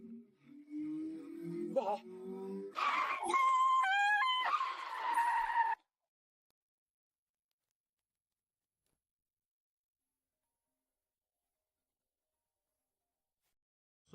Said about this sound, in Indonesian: Mobil di belakang terlalu cepat.